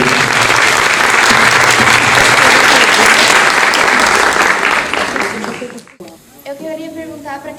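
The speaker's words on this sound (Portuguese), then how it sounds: "uma salva de palmas" Loud, dense applause from an audience at a public debate, sustained for about five seconds and then cutting off abruptly, followed by a few scattered claps and voices.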